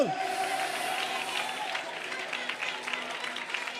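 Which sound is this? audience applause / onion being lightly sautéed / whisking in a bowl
audience applause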